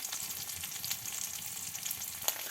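Spice paste fries in oil with onion and green chilli for a Malabar spinach dish, a close, steady crackling sizzle with faint stirring and no talk.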